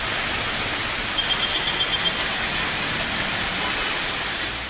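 Heavy rain pours down in a town in Tamil Nadu, a loud, continuous, even roar of falling water with a faint series of brief tones near the middle.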